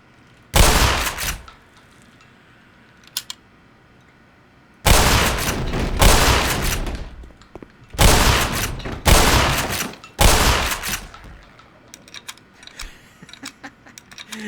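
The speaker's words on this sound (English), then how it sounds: "That is a heavy machine gun." Heavy machine gun fire in the game Black Mesa, loud sustained bursts: one short burst, then several long rattling volleys in close succession with brief gaps between them, and no talking.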